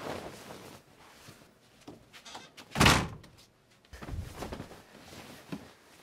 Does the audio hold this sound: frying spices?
no